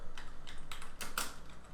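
Typing on a computer keyboard during Photoshop editing, a quick series of soft key clicks with a few sharper strikes, close and fairly quiet over a faint background hum.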